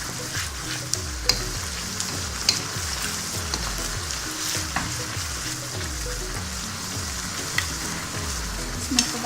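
Seekh kebabs stirred into a sizzling, puréed tomato masala in a pan, with a steady frying hiss and repeated scraping strokes of a spoon in a regular rhythm, close up and with no talking.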